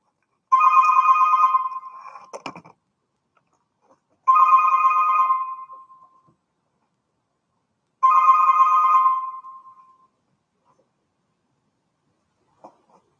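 A phone ringtone plays three times in evenly spaced bursts of about two seconds each, loud and close, with quiet pauses and small handling clicks between rings.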